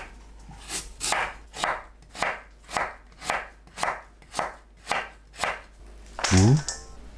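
A knife julienning radish on a cutting board, about ten crisp, evenly spaced chops in steady rhythm, close and clear, followed by a brief louder clatter at the end.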